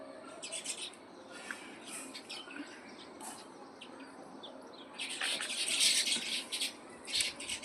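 Sparrows chirp while pecking grain outdoors, scattered short tweets at varying distances that grow busier and louder toward the end, with no talking.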